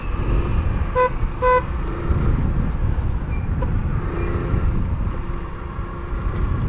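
Dense traffic heard from a motorcycle in congested streets, with two short horn toots early on over a constant roar of engines and road noise.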